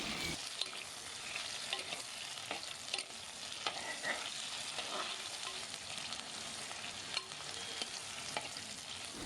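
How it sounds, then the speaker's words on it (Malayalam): Tomatoes sautéing with a masala base in a pan on a low flame for a restaurant-style fish curry: a soft, continuous sizzle broken by irregular stirring scrapes, fairly quiet and close, with no talking. "തക്കാളി ഇട്ട് കൊടുത്ത് ഒരു 3 to 4 മിനിറ്റ് ലോ ഫ്ലെയിമിലിട്ട് ഇതേ കൂട്ടൊന്ന് വാട്ടിയെടുക്കുക"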